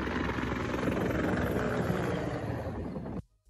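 Two Ukrainian combat helicopters pass overhead with a loud, steady rotor roar that fills the air for about three seconds, then cuts off abruptly.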